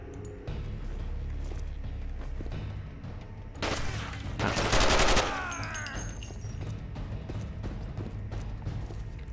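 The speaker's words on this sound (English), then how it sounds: "Where are they shooting at me from?" Gunfire in the video game Terrorist Takedown 2 erupts as a dense, loud burst of rapid shots lasting a couple of seconds, rising from a steady background rumble and then fading back to it.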